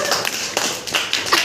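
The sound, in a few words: children clapping for a classmate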